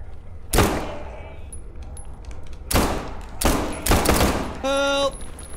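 Loud gunfire in the SCP 5K tactical shooter comes as several sharp, close bursts spread across the stretch, with a brief electronic beeping tone near the end.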